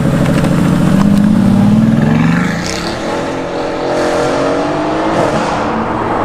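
A Renntech-tuned Mercedes-AMG GT S accelerates hard, its engine note climbing loud and close through the revs, then dipping at a gear change before pulling again with a rising, throaty roar.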